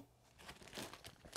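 Plastic bag crinkling while a pair of Viberg Chelsea boots is handled, a short, faint run of crackling rustles with no talk.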